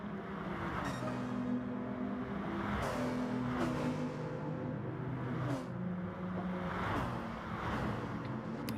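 BMW saloon race cars lapping the Kirkistown circuit, a steady, continuous engine drone that swells and fades as cars pass, with no voices over it.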